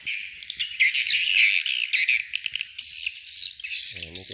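Rapid, high chirping swiftlet calls twitter continuously through a speaker at a swiftlet house, shrill and busy with fluttering trills, ending with a lower buzzy call.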